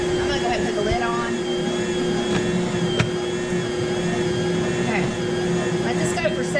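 A Bosch mixer with its lid on kneads rye bread dough from freshly milled grain, giving a steady loud motor whine and hum that runs unbroken, with faint thumps and a voice talking underneath.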